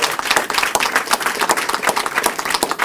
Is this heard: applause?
yes